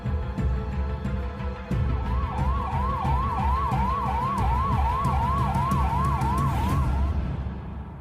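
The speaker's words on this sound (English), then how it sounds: "the passenger is escorted out of the airport toward a" A wailing ambulance siren cycles steadily up and down over a constant low road rumble, fairly close and loud throughout.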